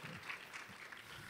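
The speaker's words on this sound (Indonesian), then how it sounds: "Tepuk tangan dong untuk Pak Lo Keng Hong." Audience applause at an evening stock-investment seminar, heard as a faint, brief burst of scattered clapping in a room.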